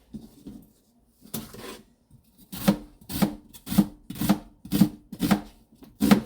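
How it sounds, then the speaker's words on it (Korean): Knife cutting an onion on a board, a few scattered scrapes, then a steady rhythmic run of close chopping strokes about twice a second, with no talk. "양파는 양쪽으로 잘라버리고"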